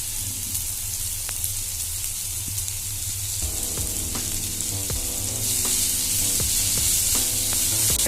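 Beef filling sautés in a pan with a constant hissing sizzle. Spatula scrapes and taps come through it, and the frying grows louder and brighter in the second half, with no voices.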